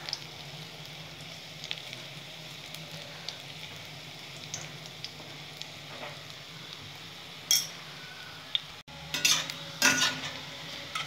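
Coriander leaf pakoras fry in a pan, with a steady soft sizzle of hot oil throughout as they are turned. A few sharp utensil clinks and scrapes come in the last few seconds.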